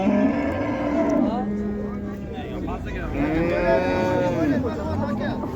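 Cows low at the Qarshi Karvon livestock market, one drawn-out moo rising clearly around the middle over steady crowd murmur and nearby voices.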